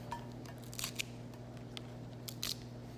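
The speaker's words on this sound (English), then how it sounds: "these usually you can just snap" Steamed Alaskan king crab shell pieces snap and crack by hand in a few sharp, brief, close clicks over a steady low background hum.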